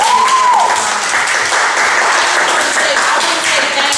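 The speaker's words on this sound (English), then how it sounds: "can we all give him a round of applause" An audience at a speaking event breaks into sustained applause, a dense, steady wash of clapping that holds at an even loudness for the whole stretch with no voices rising above it.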